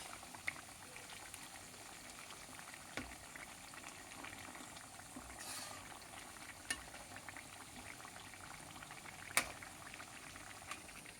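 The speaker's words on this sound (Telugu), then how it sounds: "మసాలాలు అల్లం వెల్లుల్లి పేస్ట్ వేయించుకోవాలన్నమాట." Ginger garlic paste and spices fry in hot oil for a chicken pickle, giving a steady low bubbling sizzle that stays close and even throughout with a few faint clicks and no talking.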